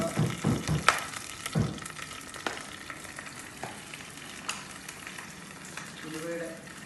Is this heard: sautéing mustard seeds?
yes